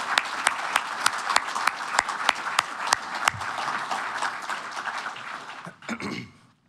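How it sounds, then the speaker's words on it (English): An audience at an agriculture technology event applauds a U.S. senator, with sharp individual claps standing out over a sustained wash of clapping that fades out after about six seconds. "I, think we just need to give him a round of applause"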